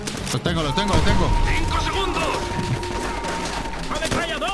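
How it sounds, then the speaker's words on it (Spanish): Enemy machine gun in Call of Duty: World at War rattles in rapid bursts alongside scattered gunfire and blasts, while soldiers shout urgently over the combat throughout. "¡Ametralladora enemiga!"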